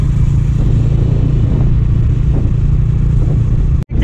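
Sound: 800cc motorcycle engine

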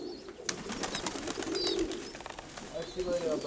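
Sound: pigeon cooing

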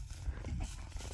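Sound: person imitating a growl to command a herding dog

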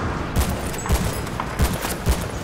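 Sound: gunfire in video game Battlefield Bad Company 2

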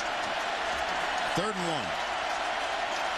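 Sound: football stadium crowd cheering

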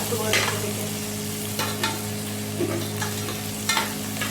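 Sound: frying okra in a pan

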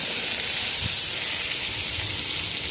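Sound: mango pieces sizzling and stirred in spiced oil

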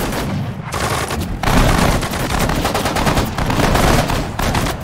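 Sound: gunfire at target in video game Sudden Strike 4

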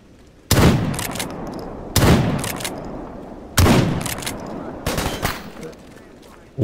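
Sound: gunshots in a zone survival video game

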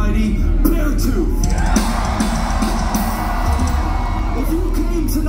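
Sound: concert crowd cheering and yelling

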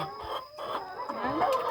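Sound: hen clucking

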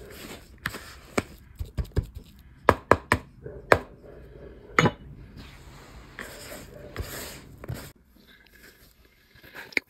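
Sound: mixing cornbread dough by hand

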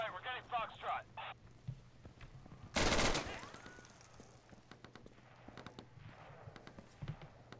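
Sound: MK18 rifle gunfire in video game Insurgency

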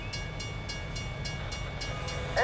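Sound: train passing in American Truck Simulator video game

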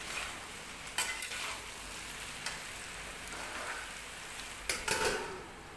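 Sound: stirring pumpkin sabzi cooking in pan

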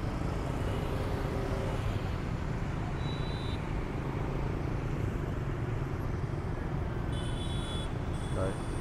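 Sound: motorbikes and cars at a Vietnamese red-light intersection

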